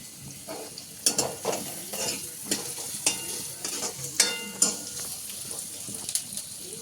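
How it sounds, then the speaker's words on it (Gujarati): Onions frying in a pan for pasta, a steady sizzle under repeated stirring clicks and scrapes of a utensil against the pan. "કાંદા થોડાક તતડી ગયા છે"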